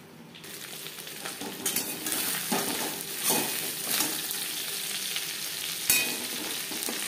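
Onion, tomato and garlic stirred and fried in a pan, a continuous sizzle broken by scraping strokes of a utensil and occasional knocks against the pan, moderately loud and close.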